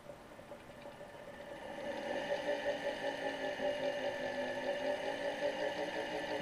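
A Solectria UMOC445 electric motor drive on a bench test spins up under throttle, its steady whine rising in loudness and pitch after a couple of seconds and then holding a constant tonal hum.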